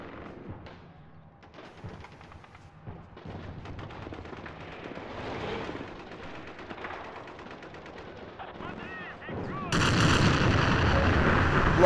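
A 203 mm howitzer firing in a Battlefield video game, with low rumbling battle noise building toward a loud, sustained roaring blast near the end.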